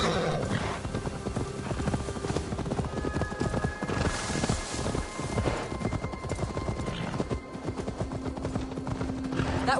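Horse hooves clip-clopping steadily alongside a neigh in Assassin's Creed Valhalla, set in a busy game soundscape with continuous background noise.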